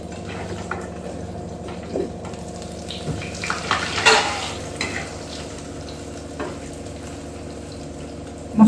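Omelette with onion frying in a pan, a soft steady sizzle with occasional clinks and scrapes of a utensil, fairly quiet and close with no talk.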